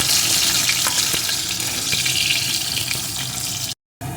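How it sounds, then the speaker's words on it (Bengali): Potatoes frying in a pan of oil with tempering spices for a vegetarian bean and potato curry give a steady, dense, close sizzle, broken by a brief silent gap near the end. "এখন আমি আলুগুলোকে দিয়ে দেবো। আলুগুলো প্রথমে সুন্দর করে ভেজে নেব।"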